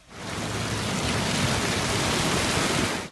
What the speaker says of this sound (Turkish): Tokat kent merkezinde sağanakla birlikte dolu etkili oldu.